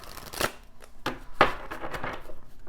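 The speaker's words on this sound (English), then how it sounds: "it's hard to shuffle." Tarot cards being shuffled by hand, a few crisp riffling and slapping bursts, close and moderately loud, without speech.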